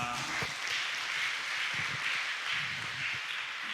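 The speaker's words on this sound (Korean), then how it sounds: "준비하느라 고생한 단원들과 선생님들을 위한 위로와 하나님께 박수로 이 모든 영광 올려드리도록 하겠습니다." A church congregation at a Sunday afternoon worship service applauds the choir members and teachers, a soft, distant wash of clapping that holds steady throughout.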